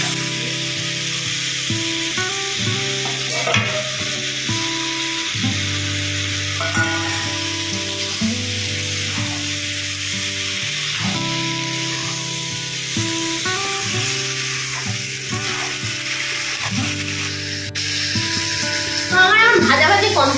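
Chicken pieces fry in oil in a kadai for chicken stew, a loud continuous sizzle with repeated scraping stirs and clanks of a spatula throughout, ending with a sharper burst of spitting.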